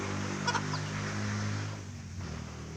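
A native chicken hen brooding on her hatch gives soft, low clucks close by over a steady background hum.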